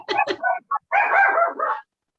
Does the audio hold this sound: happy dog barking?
yes